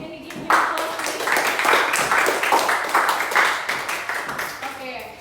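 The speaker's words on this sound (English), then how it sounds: "Okay, can you give me the applause" In a classroom, a group of students claps together in a loud, brisk patter of many hands that swells and carries on steadily for several seconds, with some voices mixed in.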